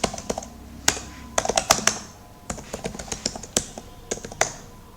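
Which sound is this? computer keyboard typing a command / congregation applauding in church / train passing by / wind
computer keyboard typing a command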